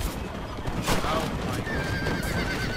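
A horse neighs in the video game Red Dead Redemption, a shrill whinny close by alongside clip-clopping hooves over busy game noise, with people talking at the same time.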